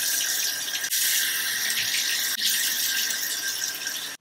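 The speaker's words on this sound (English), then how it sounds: "the next step is to wash it off with warm water, and I'm going to do that now" Warm water runs steadily from a tap while a clay face mask is rinsed off. The rush is loud and continuous, with two brief interruptions and a sudden stop at the end.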